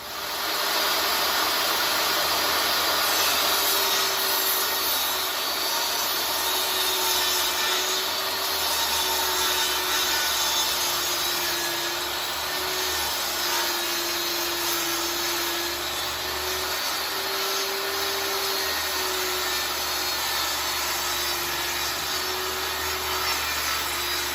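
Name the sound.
saw ripping a board and making a 45-degree bevel cut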